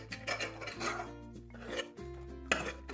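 A spoon scrapes and stirs a roasted mawa mixture in a hot kadai while making atta laddoos, with steady rasping, clinking strokes close up over a low continuous hum.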